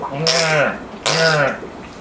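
Someone vocally imitates a spadefoot toad, producing two harsh, raspy, nasal calls, each lasting about half a second with a short pause between, close and clear with no talking.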